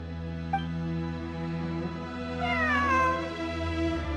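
A cat in the game Genshin Impact gives a drawn-out meow, heard clearly over a steady humming musical backdrop.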